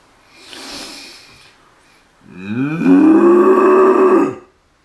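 A cow moos loudly from inside a farm shed, one long drawn-out low call preceded by a softer snorting breath, close and clear with nothing else around it.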